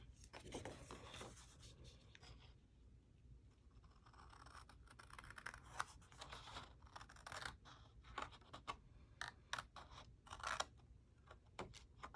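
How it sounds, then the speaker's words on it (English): Scissors cut paper along a score line during a card-making session, giving a close, soft rasping scrape with a series of sharp snips toward the end, faint and steady with no talk. "we are going to cut right on the score line"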